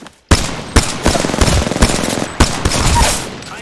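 Rapid automatic gunfire from a competitive shooter video game, loud and close, with repeated bursts and sharp single reports spread across the moment and no talking over them.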